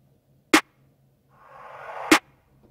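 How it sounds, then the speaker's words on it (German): A short white noise riser swells over about a second and leads into a snare in a hip-hop beat. A snare hit comes first, then the noise rises and lands on a second crisp snare, alone. "Das ist praktisch so eine Art White Noise oder Riser-Hinführung auf die nächste Snare."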